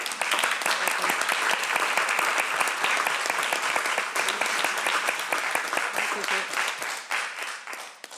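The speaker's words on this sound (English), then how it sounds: "And please, a round of applause again for it." A committee meeting audience gives a dense, steady round of applause that holds evenly for several seconds, then thins and fades out at the end.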